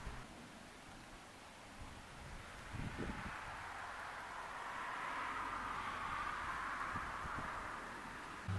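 Wind blowing outdoors at a dig site where a floppy disk was buried underground, a steady broad rushing hiss with a few low buffeting thumps against the microphone, continuous and fairly faint throughout.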